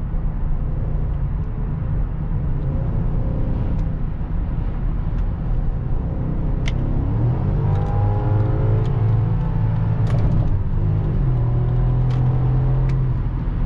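A car with a sport automatic gearbox revving hard under acceleration, a steady loud engine drone rising in pitch and holding at the rev limiter, with brief clicks over the roar.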